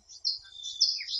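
Recorded bird song played back in an installation: a brief run of high, clear chirps and whistled trills, fairly close and alone with no talking.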